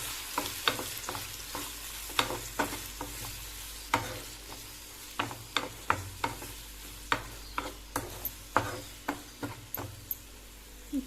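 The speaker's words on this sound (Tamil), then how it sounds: "இப்போது நல்லா மிக்ஸ் பண்ணி விட்டுக்கலாம்." Turkey berry pachadi is stirred in a pan, with a spoon scraping in a steady rhythm of roughly twenty sharp strokes over a soft background sizzle, close and clear.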